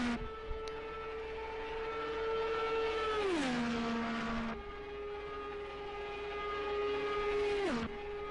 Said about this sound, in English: So here comes Thordo Gaming around the turn 4 to get started on his warm-up lap.